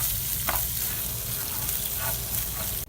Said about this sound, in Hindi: सेवइयों में भी आपने कॉन्स्टेंटली स्पून चलाना है ताकि ये जले ना।